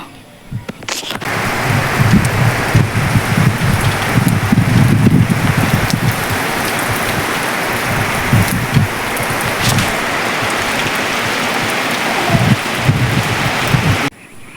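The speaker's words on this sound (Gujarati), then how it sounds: "વરસાદ જોઈને બહુ વાદળ જેવું થઈ ગયું" Steady rain pours with a dense, continuous hiss for over ten seconds, loud and close, with faint rumbling underneath before it cuts off.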